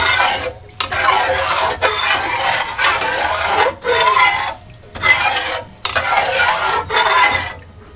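A spoon scrapes and swirls in a cooking pot, stirring beef cubes into liquid in repeated strokes separated by brief pauses, close and fairly loud, with no talk.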